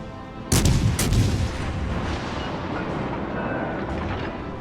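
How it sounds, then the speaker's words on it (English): Main battery guns of the Albemarle, a tier 7 British cruiser in World of Warships Legends, fire in two heavy booming salvos close together, then rumble away into a low sustained roar. "I'll try taking a shot, see if I can start a fire."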